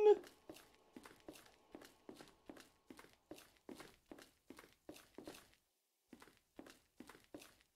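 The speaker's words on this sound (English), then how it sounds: "I hear footsteps." Soft, evenly paced footsteps from the VR horror game After Dark VR fall in a steady rhythm of about three per second, pause briefly, then continue. The steps are faint and isolated against near silence.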